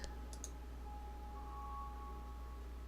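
A computer mouse gives a right click or two near the start, quick and fairly faint, over a steady electronic hum and a thin sustained tone during play of a PC game.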